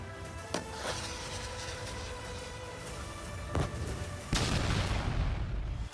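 Anti-tank guided missile explosions: several booms and sharp blasts strike at irregular intervals over a continuous low rumble, the last one swelling into a heavier roar, with no talking.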